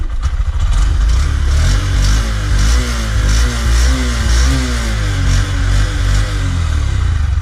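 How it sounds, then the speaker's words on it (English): A Honda Shine BS6 motorcycle engine revs repeatedly close by, with rhythmic throttle blips rising and falling over a steady exhaust rumble. "we'll check out the exhaust sound."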